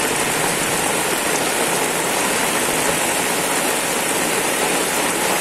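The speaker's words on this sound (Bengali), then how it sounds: "শুধু বৃষ্টি হচ্ছে চারদিকে" Heavy rain pours steadily all around on a calm, windless day, a dense, loud, unbroken roar of falling water with no voices.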